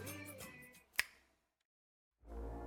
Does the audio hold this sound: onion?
no